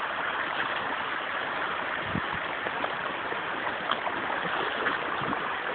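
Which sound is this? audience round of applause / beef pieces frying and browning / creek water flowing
creek water flowing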